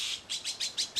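Azure-winged magpie parent giving warning calls: a rapid series of about six short, sharp, harsh chirps repeated at an even pace, fairly close and alone against a quiet background.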